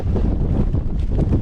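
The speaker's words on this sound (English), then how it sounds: "see how windy it is" Strong wind buffets the microphone on an exposed Peak District hilltop edge, a loud, continuous low rumble with rough gusting texture and no voices.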